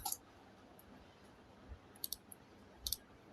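Computer mouse clicking a done button while setting up a website in Canva: a few short, crisp clicks, one at the start and a small cluster later, alone against a quiet room.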